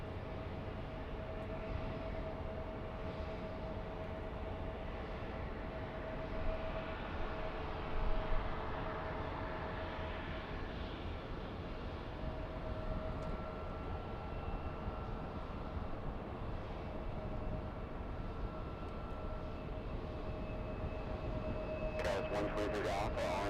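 An airliner takes off at LAX, a faint, distant jet roar that swells and sustains at a low, steady level over the full stretch, with no talk.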